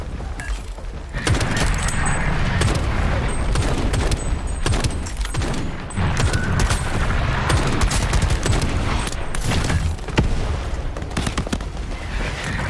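Gunfire in Shatterline co-op combat, with rapid loud shots and automatic bursts firing almost without pause, dense and close, and booming hits mixed in.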